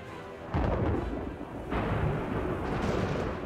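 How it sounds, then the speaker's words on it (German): Storm in the Age of Empires 4 video game, with heavy rolling thunder rumbling in two loud bursts over a constant background roar. "wurde die Armee von einem schrecklichen Sturm getroffen"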